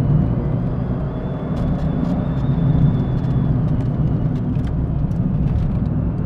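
Inside a Renault Clio Williams, a front-wheel-drive hatchback, the tyres give off an odd rolling roar, a steady loud road drone with engine hum that holds constant throughout.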